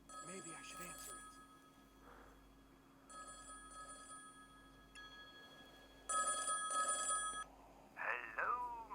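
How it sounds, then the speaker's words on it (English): Telephone ringing in the Golden Loft VR escape-room game, several bursts of bright electronic bell tones separated by pauses, with a voice speaking between rings. "The phone's ringing. Maybe I should answer it."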